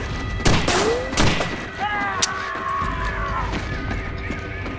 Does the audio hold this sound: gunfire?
yes